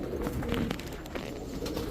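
Close, steady cooing from a group of Oman Teddy pigeons held in a carton, the low murmur running throughout with a few brief higher chirps and no one speaking.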